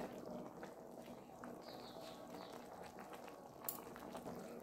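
Egg omelette curry bubbling in a covered pot, a soft, continuous simmering burble with faint lid rattles and small clicks, quiet and close.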